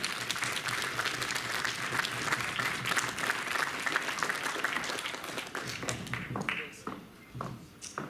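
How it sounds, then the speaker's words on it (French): A convention crowd at a cosplay event applauds as a cosplayer arrives, with dense clapping that is loud at first and then thins into scattered claps, with some voices near the end. "Vous pouvez déjà applaudir avant qu'elle arrive"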